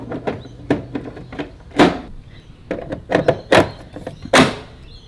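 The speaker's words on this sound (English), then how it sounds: "all we need to do now is pop in the batteries. Open it up." Plastic clunks and clicks as the battery lid on a DeWalt 2x18V 20-inch cordless lawn mower is opened and batteries are pushed in, a series of close, sharp knocks and thuds.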